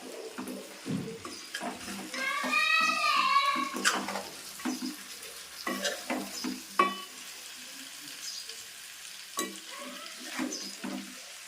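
Fish pieces coated in chili powder and salt are gently stirred in a pan for Nellore-style fish pulusu, soft scrapes and taps over a light sizzle, close by, with intermittent bubbling and whistling tones.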